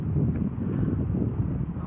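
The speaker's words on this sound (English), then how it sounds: "A little bit windy." A light breeze blows by the shore of Lago di Braies, the Dolomites lake also called Pragser Wildsee, as a soft, steady low rumble of wind against the microphone with no voices.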